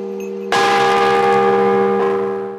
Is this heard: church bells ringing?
yes